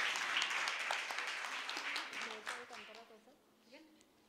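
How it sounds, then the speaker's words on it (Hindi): Audience applause for a young ghazal singer at an evening ghazal concert, a dense wash of clapping that gradually thins and fades, with voices chattering over it toward the end. "इनके लिए सच्चे में जोरदार ताली होनी चाहिए।"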